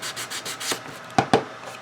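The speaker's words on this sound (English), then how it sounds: "trying to sand, as you can tell" A hand sands wood by hand to expose old paint layers, giving rhythmic rubbing strokes up close, followed by two sharp knocks.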